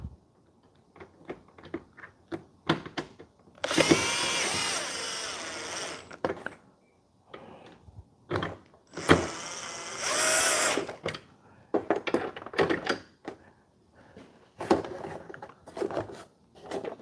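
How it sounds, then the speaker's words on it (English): A power drill on its lowest setting drives screws into a walking treadmill, with two long steady whirring runs between bursts of clicks, taps and handling noise close by. "I'm just drilling blind."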